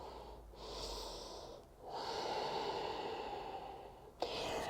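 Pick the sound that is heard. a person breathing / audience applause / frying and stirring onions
a person breathing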